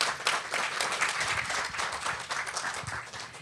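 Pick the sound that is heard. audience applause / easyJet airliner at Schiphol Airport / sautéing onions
audience applause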